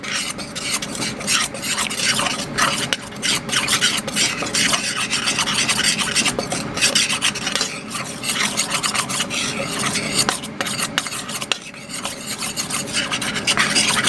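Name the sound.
stirring mustard powder with spices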